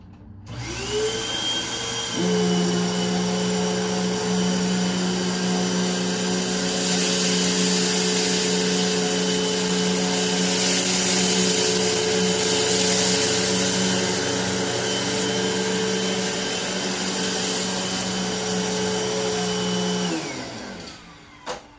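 A Hoover Windtunnel Max bagged vacuum cleaner switches on, whines up to a loud steady roaring drone with a high tonal hum while running across the floor, then spins down and cuts off near the end.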